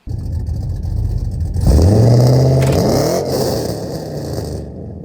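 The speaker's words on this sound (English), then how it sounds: "I tried to do a burnout. And this happened." A cammed, lowered Chevrolet Silverado shop truck on big wheels revs hard for a burnout. The engine note surges loud and close, climbs steadily, then cuts off abruptly near the end.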